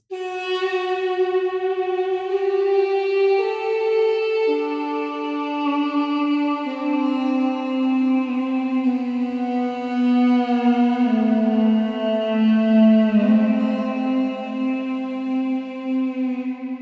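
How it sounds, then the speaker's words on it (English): A duduk from the East West Raw sample library plays a slow, breathy reed melody of long sustained notes with gentle pitch bends, sitting close and clear on its own for the whole stretch. "this Duduk, and it just sounds beautiful"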